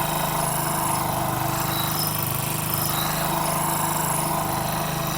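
A repaired Hero Splendor motorcycle engine idles steadily and loudly up close, a continuous mechanical chug with even rhythm throughout and no voices.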